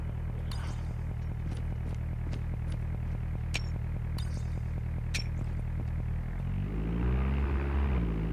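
A propeller airdrop plane in a shooter video game drones overhead, its steady rumbling engine building louder and nearer toward the end, with sharp clicks and clatter scattered across it.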